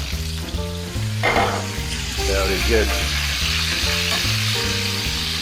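Bell peppers frying in a hot pan for steak fajitas, a loud steady sizzle with crackling and stirring, while a voice speaks briefly and music plays underneath.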